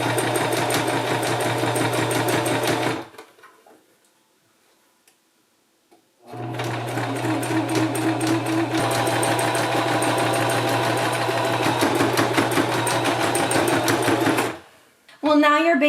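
A sewing machine stitching along the inside edge of a skirt hem runs loud and steady at close range for about three seconds. It pauses briefly in near silence, then resumes for a long continuous run and restarts briefly at the end.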